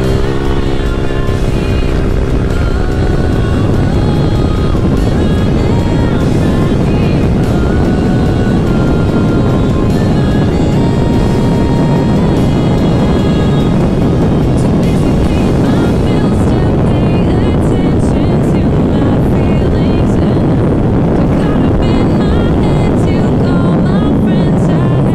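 A scooter fitted with a BRT 32 mm throttle body and a matched CVT setup, on a test ride. Its engine holds a steady, loud drone mixed with wind rush for the whole stretch, with no clear voices.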